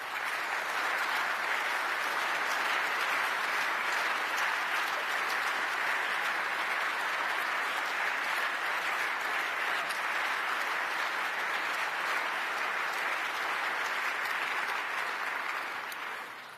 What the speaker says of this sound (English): Once again, this is your applause.